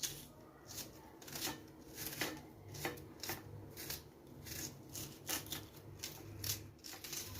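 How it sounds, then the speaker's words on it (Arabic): A knife chops an onion into cubes on a cutting board for a tagine with green beans, giving quiet, irregular sharp taps at close range, loosely rhythmic with short pauses between strokes. "نقطع البصله هكا مربعات"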